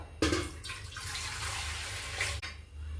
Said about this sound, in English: first you need to add water.